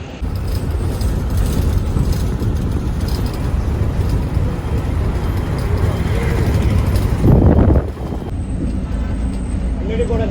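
Steady roadside traffic rumble as vehicles pass along a road, with a bus pulling up and a loud burst of engine noise near the end, all heard close and continuous.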